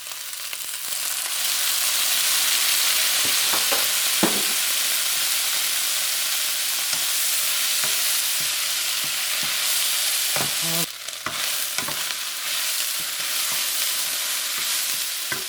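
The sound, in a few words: beef and onions frying as chili cooking wine is added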